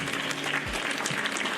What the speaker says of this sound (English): So he gets the round of applause for today.